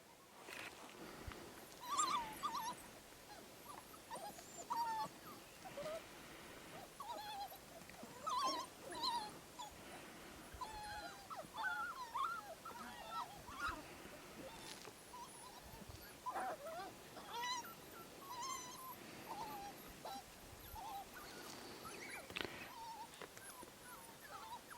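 African wild dog pups whimper and squeal from inside a crowded den in the Manyeleti, a busy chorus of high, thin cries and twittering calls over steady outdoor background noise.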